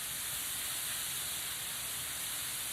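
Leeks softening in a hot pan give off a steady, even sizzle with a bright hissing wash and no break, close and fairly loud throughout.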